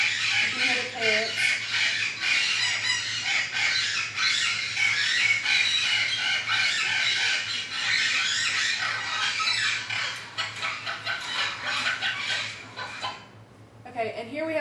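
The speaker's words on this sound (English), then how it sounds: "you can hear the parrot." Parrot sound effect from a rainforest lesson: loud, harsh squawks and screeching calls repeating over a busy, noisy background for most of the stretch, with a brief quieter gap near the end.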